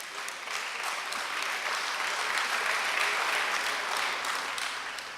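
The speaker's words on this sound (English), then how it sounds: "yeah, clap, please clap." A conference audience applauds with a steady, dense clatter of many hands clapping, sustained for several seconds at moderate distance.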